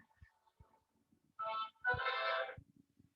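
A mobile phone ringtone plays two bursts of bright, buzzy chiming, the second longer, over a quiet room with light tapping and handling noise.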